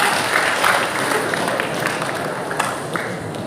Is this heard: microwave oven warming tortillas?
no